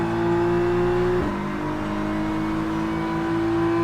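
A GT3 race car in rFactor 2 at Autodrom Most at full throttle, its loud engine tone climbing, dropping sharply at an upshift, then climbing again, close and continuous with no talk.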